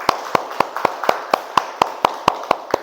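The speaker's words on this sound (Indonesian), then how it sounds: "Beri tepuk tangan untuk kelompok A." A classroom group claps for a presenting student group during a teacher training session, a sparse steady run of about a dozen sharp, evenly spaced claps, close and dry, with no talking.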